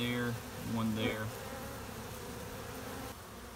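Honeybees and chubby drone bees buzz inside a car door, a close, continuous hum with a few rising and falling whines early on.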